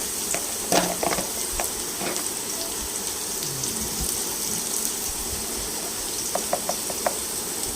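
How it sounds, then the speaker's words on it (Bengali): Potatoes with turmeric and salt fry in hot oil, giving a steady close sizzle throughout, punctuated by scattered sharp spatula taps and a quick run of clicks near the end. "তারপর এটা আমরা কিছুক্ষণ ভাজতে দিব। এটা ভালোভাবে ভাজতে হবে।"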